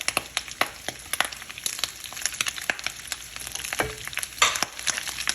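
Onions dropped into hot oil in a pan sizzle and crackle with dense irregular pops, close and steady, for a pork and taro-leaf dish, with no voices over it.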